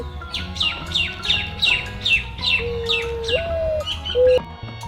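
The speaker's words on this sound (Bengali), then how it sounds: "ঘতে ঘুঘু পাখি ডাকছে গাছে।" A bird calls from a tree in a rapid series of about eight short high chirps, followed by a couple of longer whistled notes, moderately close with light background noise.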